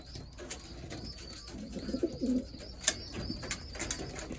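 Racing pigeons coo softly and repeatedly nearby, their low, rolling calls overlapping with a few light chirps and faint rustling.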